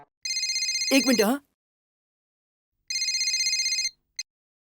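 A telephone rings in two electronic bursts separated by a pause, with a short spoken phrase between them and a brief final chirp at the end.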